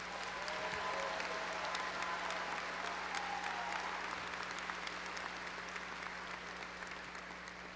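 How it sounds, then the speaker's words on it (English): Sustained applause from a crowd at a high school graduation ceremony in a large hall, steady and moderately distant, with a low constant hum beneath it and no talking. "A round of applause for these students, please."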